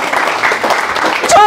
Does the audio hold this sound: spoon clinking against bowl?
no